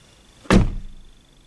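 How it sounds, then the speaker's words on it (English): BMW X1 car door shutting with a single solid, close thud, followed by a short fading resonance. "I love the sound the door makes whenever you open and close it. It's this metallic sound."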